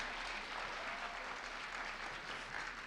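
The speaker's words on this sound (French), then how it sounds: "On peut l'applaudir. Bravo à elle." A room full of people applauds steadily at a school pleading competition final, a dense, even patter of clapping that holds throughout.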